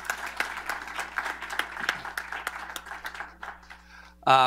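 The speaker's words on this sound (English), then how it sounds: "let's give one more round of applause for Tom Wheeler" Moderate applause from a conference audience at a cybersecurity event, with sharp individual claps standing out before it thins and fades, followed by a brief burst of louder sound at the end.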